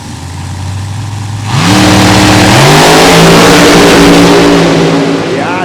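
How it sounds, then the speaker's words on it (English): A drag racing car launches hard down the strip, its engine roaring loud and revving up through rising tones after a steadier idle, with crowd and track noise filling the background. "That car leaves so pretty."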